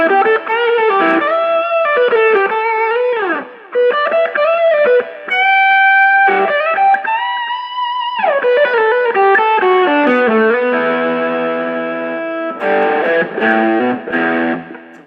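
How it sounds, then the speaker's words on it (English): A distorted electric guitar played through its full bridge humbucker rings out loud and saturated, moving through sustained chords and riffs with thick, compressed tone and no talking. "if you have the full bridge humbucker with distortion"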